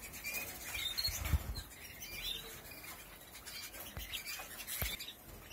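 A pet bird in an aviary hops up onto a perch with a quick flutter of wings, among soft rustling, faint scattered chirps and a few light thumps nearby.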